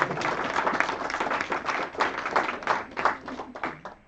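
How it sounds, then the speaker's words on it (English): An audience at an ESN Sweden Karlstad student event applauds steadily for about four seconds, a close, even wash of many hands clapping with no talking over it. "I think you need to applaud for yourself."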